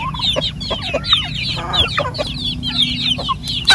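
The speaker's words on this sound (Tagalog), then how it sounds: "Ito na yung ating mga sisiyo." Chicks and chickens on a poultry farm: a close, continuous chorus of high, shrill chick peeping mixed with clucking, steady throughout with no talk.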